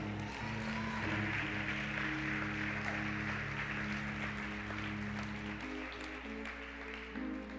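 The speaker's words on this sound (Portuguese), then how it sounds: "Você pode aplaudir a Jesus aí." Steady broadband crowd applause from many hands at a church communion service, loud and sustained throughout, with a low sustained musical tone running underneath.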